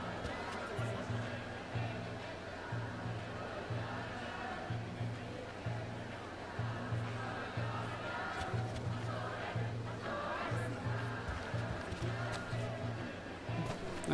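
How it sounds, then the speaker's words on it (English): A crowd in the video game Like a Dragon Ishin shouts and chants in a rhythmic, pulsing roar that repeats over and over at a moderate distance, with faint chatter mixed in. "What's with this crowd?"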